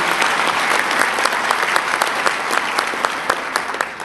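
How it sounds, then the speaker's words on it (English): An audience at a New York State high-tech manufacturing complex announcement bursts into loud, sustained applause for an honoree, with thick, continuous clapping and a few sharper individual claps standing out. "Let's give her a big round of applause for all the great work she's doing."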